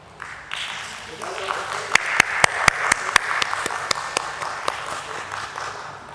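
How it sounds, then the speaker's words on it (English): Audience at a stock exchange listing ceremony for NMDC Steel Limited gives a round of applause, steady clapping swelling then fading, with sharp individual claps standing out and a voice speaking underneath. "Please welcome them with a round of applause"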